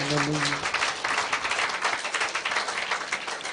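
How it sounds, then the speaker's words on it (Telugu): A church audience at a healing ministry gathering breaks into loud, steady applause after a voice finishes speaking, the dense clapping holding evenly to the end. "ఒకసారి గట్టిగా చప్పట్లు కొడితే."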